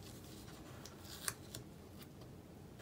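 Scissors trimming washi tape and paper during a paper craft stamping project, with a few faint quiet snips and one sharper cut amid low background noise.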